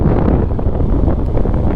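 Loud, steady wind roaring and buffeting against the microphone while riding a Suzuki Address 110 motorcycle on a windy day, a constant rushing noise with no pauses.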